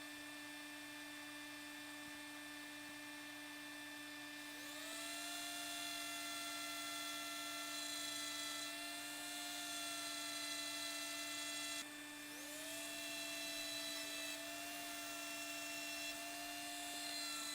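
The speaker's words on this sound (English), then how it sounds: "You've seen sanding before, so I'm not going to show you all that." A steady high-pitched electric sander whines continuously on the edges of a resin piece, rising in pitch and intensity twice as it bites into the material, over a constant low hum.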